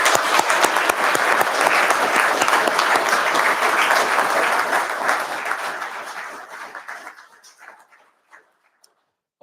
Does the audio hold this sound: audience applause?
yes